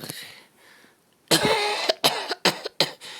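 After a quiet start, a run of close coughs follows in quick succession, about five harsh bursts with short gaps between them.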